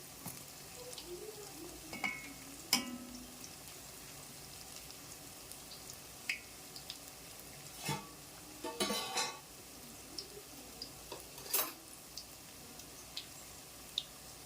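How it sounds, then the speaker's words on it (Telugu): Punugulu fritters fry in hot oil with a soft, continuous sizzle, broken by scattered scrapes and clinks of a utensil stirring them in the pan, quiet and close, with no speech. "అన్నీ వేసేసి మీడియం పెట్టుకొని అన్నీ ఇట్లా తిప్పుకుంటూ ఫ్రై చేసుకోవాలా"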